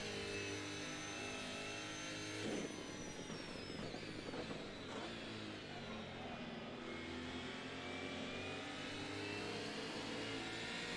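A 90s V8 supercar engine in the racing game Assetto Corsa roars continuously, revving up and down through gear changes, loud and close throughout.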